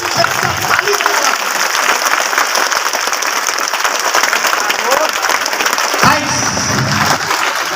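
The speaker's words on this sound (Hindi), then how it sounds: "आप और इतनी दमदार तरीके से तालियां बजाना कि आपके घर वाले पीछे ताली बजाना।" A seminar crowd in Hazaribagh claps loudly and continuously for several seconds, a thick roar of hands with a brief shift near the end and some voices mixed in.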